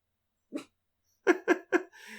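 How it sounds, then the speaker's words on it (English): A dog barks once, then three more quick, loud barks in close succession follow after a short pause, ending in a softer whine or panting, with no talking. "my dogs are freaking out"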